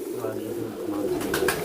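Ferozpuri pigeons coo close by, a soft low throaty call running through, while a person talks over them near the end.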